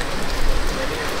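Steady rain falls throughout, a dense hiss of drops spattering a surface close by at an even level, with no talk over it.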